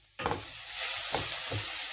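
Onions brown in a pan, a close hiss of frying with a few stirring scrapes and short bursts of sizzle.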